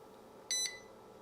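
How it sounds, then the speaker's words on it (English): A UT61e digital multimeter gives a single short, high electronic beep when powered up, clear over quiet room background. "It beeps."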